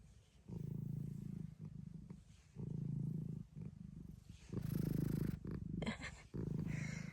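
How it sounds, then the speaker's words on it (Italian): Low, rumbling purr rising and falling in long repeated waves, close and steady, with a brief higher noise near the end. "Che bella fusa che fai, Mizio."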